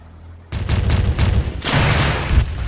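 Heavy naval gunfire in the video game Navy Field 2, with several sharp, loud cannon blasts in quick succession, then a longer rumbling barrage close by.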